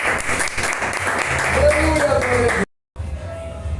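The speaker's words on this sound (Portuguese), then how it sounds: "As palmas louvem ao Senhor Jesus." Congregation applauding during a church sermon, dense clapping under background voices and organ-like tones, then a brief drop to silence before quieter sound resumes.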